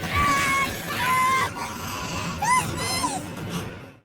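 A man screams in a horror film set aboard a hijacked plane during a vampire attack, with loud, strained vocal cries rising over a dense backdrop of film music and noise.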